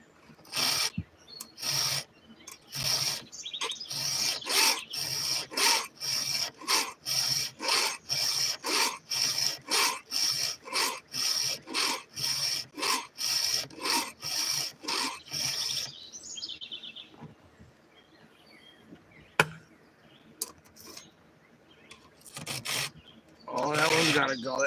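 Hand file sharpening the teeth of a 28-inch chainsaw chain, a steady run of rhythmic rasping strokes for about sixteen seconds, then quieter scattered scraping and small clicks, close and loud.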